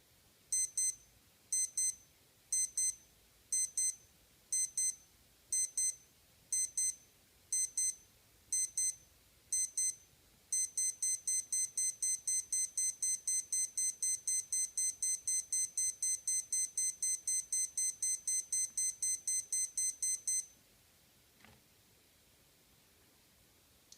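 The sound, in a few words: Timex Ironman T5K412 watch alarm beeping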